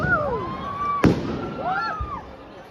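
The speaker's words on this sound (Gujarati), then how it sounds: "આગળ તો જો ગાઈસ ફટાકડા ફૂટે છે" Fireworks bursting outdoors: one sharp, close bang stands out amid rising and falling whistle-like tones and background voices in a lively street setting.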